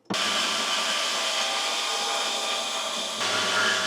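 Bandsaw cutting through a bent steel tube for a tube front end on a 240SX, a steady loud whining drone held continuously for several seconds, with a slight shift in tone near the end.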